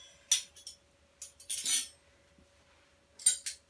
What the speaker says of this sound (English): So these are the spoons that I play quite a lot at the moment.